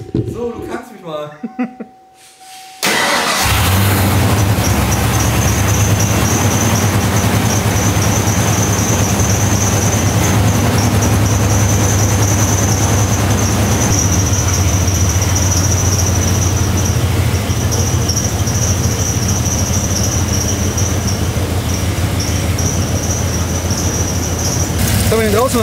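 A 1994 Ford F-150 XLT engine idles steadily and loudly outside, a continuous low rumble with a high whine running over it, after a few seconds of quieter handling noise.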